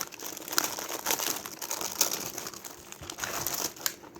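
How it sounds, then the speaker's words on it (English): Cookies are crushed into crumbs inside a plastic Ziploc bag, producing close, irregular crinkling and crunching with repeated sharp pounding hits. "And do your cookie crumbs. I'm just going to beat the tar out of them."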